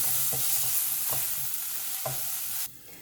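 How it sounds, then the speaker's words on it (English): Onions with ginger garlic paste sauté in a pan for a tomato paneer dish, a loud close sizzle broken by a few spoon scrapes, then the hiss drops away abruptly near the end; no talking. "And saute them till light brown."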